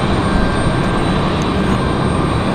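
An Airbus A320-200 at Raleigh-Durham airport, its jet engines making a loud, steady broadband roar that holds level throughout, with no voices.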